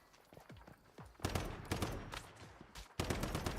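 Turrets firing in the online game The Secret World, a series of heavy booming volleys with rumbling tails, arriving in uneven bursts at close range.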